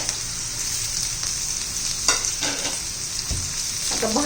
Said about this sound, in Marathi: आता टोमॅटो घालून घेऊया